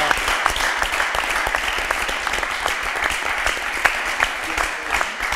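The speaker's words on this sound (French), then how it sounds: "on peut applaudir pour tous les participants, les joueurs" A TV game show studio audience applauds the participants and players, a steady crowd clapping throughout with some louder individual claps standing out.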